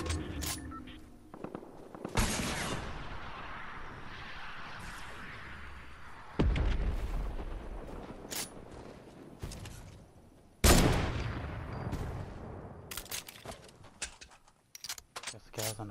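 Video game gunfire cracks out as loud, sharp shots in scattered bursts, some close and some distant, with quieter crackling between them and a player talking over it.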